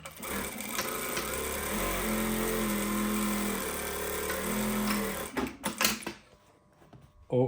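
A Brother S7220D-403 direct drive needle feed industrial sewing machine runs a continuous stitch for about five seconds with a steady motor hum, then stops with a few clicks and knocks as the fabric is handled.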